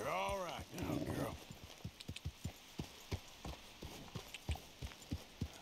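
Hooves clip-clopping at a walking pace in a Red Dead Redemption 2 game scene, evenly spaced thuds after a brief horse whinny at the start, fairly close and alone.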